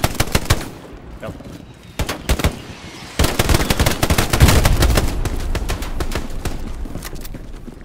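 Machine-gun fire in the World War II shooter Hell Let Loose, set in the streets of Carentan, crackles in rapid bursts and single shots, near and loud, with a dense volley swelling in the second half.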